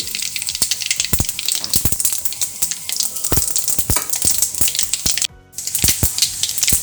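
Mustard seeds and urad dal sizzling in hot oil in a pan, a loud, steady crackling hiss with sharp popping bursts throughout and a brief dip near the end.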